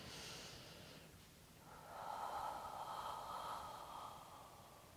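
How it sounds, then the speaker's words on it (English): A person does a squat breathing exercise, with a faint, slow, steady exhale that hisses softly for a few seconds and then tapers off. It is quiet and close, with no talking. "So I take a deep inhale and slow, steady exhale."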